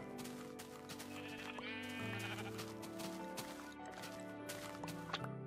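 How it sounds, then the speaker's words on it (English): Sheep bleating in the video game Minecraft, several wavering calls overlapping and repeating, fairly close, alongside soft footstep-like clicks and a background tone, with no talk. "Oh good, more sheep."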